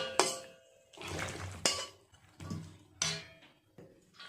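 Cooked potato curry (aloo dum) is tipped from a kadai into another vessel in a home kitchen, with several sharp metallic clinks and scrapes of pot and spoon in uneven bursts, close and moderately loud.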